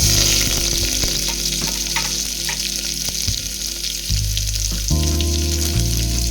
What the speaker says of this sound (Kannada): ಈಗ ಎಣ್ಣೆ ಕಾದಿದೆ, ಅದಕ್ಕೆ ಚೂರು ಸಾಸಿವೆ ಮತ್ತು ಈರುಳ್ಳಿ, ಕರಿಬೇವು